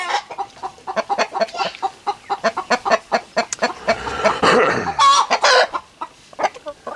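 Chickens cluck close by in a rapid, uneven series of clipped calls, with a louder drawn-out squawk near the middle and more clucking after it.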